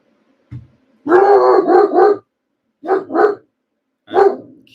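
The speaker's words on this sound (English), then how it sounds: "Sorry about the dog." A pet dog barks in an indoor room: one short soft yelp, then a close, loud run of three quick barks, two more after a pause, and a final single bark.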